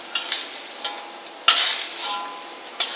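Arrowroot with pork sizzles and hisses steadily in a pan, with occasional stirring scrapes and clinks; no talking.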